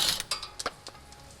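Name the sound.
ratchet removing strut retaining plate bolts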